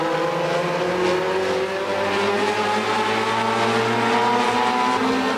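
Several small Honda race cars, including an early-1990s Honda and a late-1980s Honda CRX, drive a heat race on a track, their engines droning steadily and loudly with overlapping rising and falling pitches throughout.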